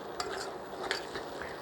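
Spatula stirring and smashing cooking flour dough in a pan, a few soft scraping strokes and light clinks at a steady pace, close and fairly quiet with no voices.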